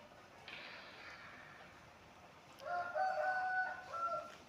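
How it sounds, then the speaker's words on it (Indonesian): A rooster crows nearby, a long drawn-out call rising and holding for a couple of seconds over a low background hum, with no talk over it. "Ayam."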